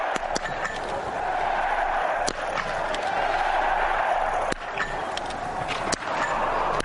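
Spectators at a men's biathlon World Cup pursuit race in Oberhof roar in a steady, dense wall of cheering that stays loud throughout, with brief sharp knocks cutting through.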